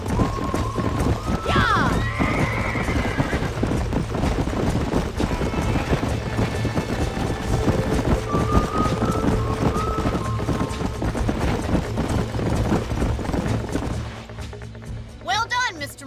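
Horses in the Red Dead Redemption western game clop steadily over ground with a whinny near the start, under outdoor wind and game ambience, while people speak and one voice shouts briefly.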